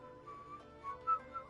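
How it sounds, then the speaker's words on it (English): A tune is whistled in the video game Genshin Impact, a short series of thin, quiet melodic notes rising and falling over about a second and a half, alone and without speech. "Whistling, whistling."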